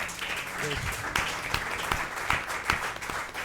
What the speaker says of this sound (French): Est-ce qu'on peut acclamer fortement?